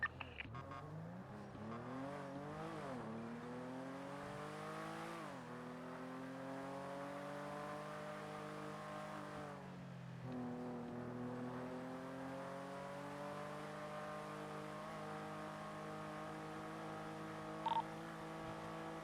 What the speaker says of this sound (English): Here, let's accelerate.